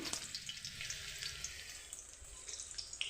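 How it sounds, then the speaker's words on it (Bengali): Chopped garlic and ginger frying in hot oil for egg chow mein, a steady soft sizzle and crackle with scattered small pops, fairly quiet, no talking. "তেলটা দিলাম একটু গরম হতে মধ্যে দিয়ে দেবো রসুন কুচি আদা কুচি"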